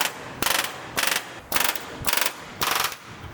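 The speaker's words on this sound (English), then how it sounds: "holding the pieces in place with clecos, and installing the rivets" Rivets being set in a patch panel on a vintage travel trailer, five evenly spaced loud bursts of a pneumatic rivet gun with short quiet gaps between, close up and without voices.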